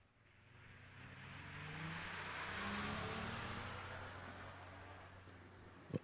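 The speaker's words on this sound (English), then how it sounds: "Owen Harvey making a single up the right-hand side of the racetrack" A single race car makes a licensed test pass up the right-hand lane of a drag strip at a junior shootout, its engine note swelling into a steady broadband roar that peaks midway and then eases as it runs off.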